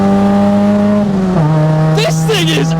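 Ford Fiesta MK5 with a 1.7L Puma engine holding a loud, steady high rev that drops slightly, then a voice cuts in over the engine toward the end.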